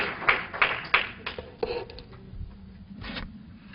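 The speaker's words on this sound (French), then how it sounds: "So if you can put your hands together for them." Scattered, separate hand claps from the audience at an Ivorian community memorial tribute in Washington DC: a few sharp, close claps at first, then thinning into softer, sparse clapping over low room murmur.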